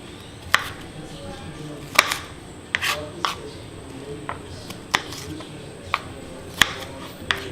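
A knife chops onion finely on a cutting board in a home kitchen, with sharp, irregular taps scattered across the stretch, some louder strikes standing out over a quiet background.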